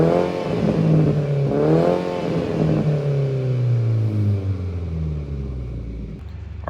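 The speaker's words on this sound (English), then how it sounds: "revving it in neutral sounds way better" An Infiniti Q50's engine revs in neutral, heard from the rear of the car: a loud, throaty rev that rises, then slowly winds down over several seconds, with no talking.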